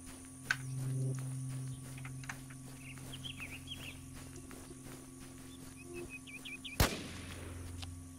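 Gunfire in the survival video game Infestation New Z, a single sharp distant shot over a quiet ambient game background with insect-like chirps and a few faint clicks.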